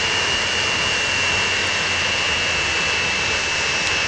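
A jet airliner circling an airport in the Transport Fever simulation game, a loud, steady engine roar with a high whining tone running unbroken through the whole stretch.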